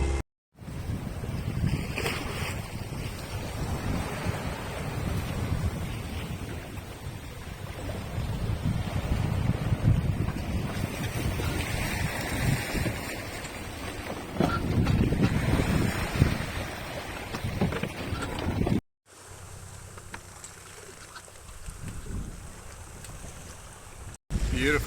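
A 50-year-old sailboat, Sibongile, underway at sea, with a constant rush of wind and waves and heavy wind buffeting on the microphone, broken by a brief cut near the end.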